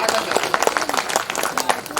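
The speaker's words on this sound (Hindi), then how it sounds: "एक बार जोरदार तालियां बजाइए।" Hands clap in a dense, continuous burst from an audience at a poetry recitation, loud and near, with some voices mixed into the applause.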